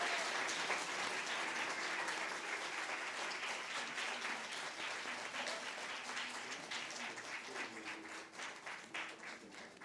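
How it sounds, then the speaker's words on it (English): Sustained audience applause for a poet at a poetry event, steady clapping from a full room that holds for the whole stretch and tapers slightly toward the end, with no talking over it. "Let's give a big round of applause for Miss Silvana."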